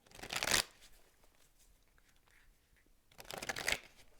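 Oracle cards are riffled in two quick, crisp bursts, close and fairly soft, with a quiet pause between them.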